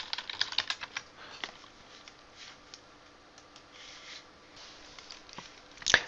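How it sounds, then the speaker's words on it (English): Quiet typing on a computer keyboard: irregular runs of soft, close keystrokes, a bit denser at the start and with a louder clatter at the very end. "So let's turn on our caps and let's retype that."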